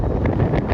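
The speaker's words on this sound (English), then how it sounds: "Oh, it's getting windy, folks." Wind gusts buffet the microphone at an outdoor protest, a loud, rough rumble that swells and dips over a brief moment.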